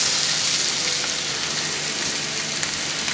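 A steady, dense sizzle of chicken frying in a pan, close and constant with crackling texture throughout and no talking.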